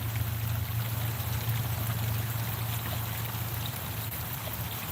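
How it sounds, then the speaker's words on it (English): Water of a stream flows steadily nearby, a soft continuous rushing and trickle with a low hum beneath it and no voices. "You hear the water?"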